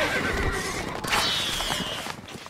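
Horses in the medieval strategy game Stronghold Crusader give a loud neigh and whinny over fast clip-clopping hooves, with a bright, busy game backdrop of battle sounds around them.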